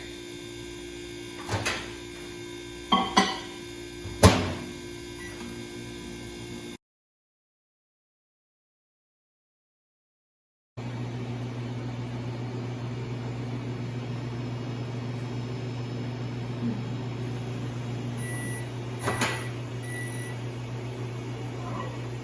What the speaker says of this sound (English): you're gonna put it in the microwave for 90 seconds